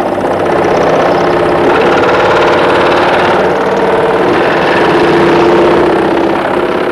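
A vibration tester shakes electronic equipment built for aircraft service, giving a loud, steady mechanical hum and buzz that holds constant for several seconds with no talk.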